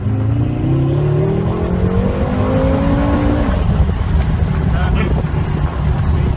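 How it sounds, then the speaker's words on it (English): A Bugatti accelerates hard at full throttle, the engine note climbing steadily before a shift, with wind buffeting and people talking over it. "With the gas all the way through, gas it"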